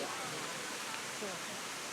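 Cascada Cailor waterfall in Maramureș roars as a continuous broad rushing wash of water, steady and close with no pauses.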